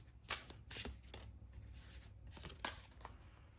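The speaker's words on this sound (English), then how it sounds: "Let's get some more tarot cards." Tarot cards being drawn and handled during a pick-a-card reading give a few quiet, crisp papery snaps and slides over low room hiss.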